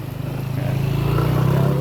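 Motorcycle on a rural road among rice fields, a close, steady engine drone that swells slightly louder as it passes, with no talk.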